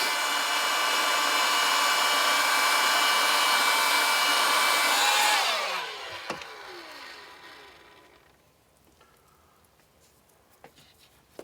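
A heat gun blows a steady loud roar onto a hot tub plumbing pipe fitting for about five seconds, then shuts off and spins down, leaving faint clicks and handling noises.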